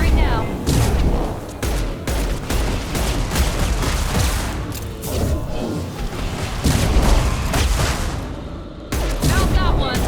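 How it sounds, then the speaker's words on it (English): Sci-fi gunfire in Mass Effect 2 during a Collector attack on Horizon, with dense rapid bursts, booms and crackling shots overlapping continuously at close range, a brief lull near the end before firing resumes. "Firing now."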